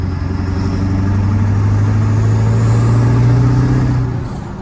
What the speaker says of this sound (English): that KC Turbo really does add an extra level of whistle and sound